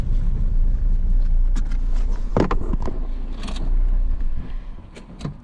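A car rolls along a dirt track toward two abandoned cars, among them a Triumph TR6. Its engine rumbles low and steady, with rattles, knocks and creaks from the body scattered through the drive and no talking.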